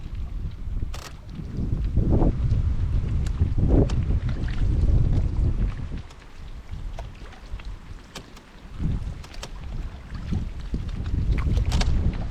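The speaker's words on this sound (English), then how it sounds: "Look at this sandstorm. All that loose dirt coming off." Gusting wind whips loose dirt off a bank along the Big Salmon River in the Yukon, a loud buffeting roar with rumbling surges and scattered small rattles and clicks, no voices.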